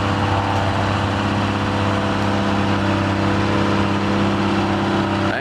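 A Wagner heavy vehicle made out west, powered by a Detroit diesel engine, running at a show, a loud, steady low diesel rumble with a continuous throbbing drone close by and no talking.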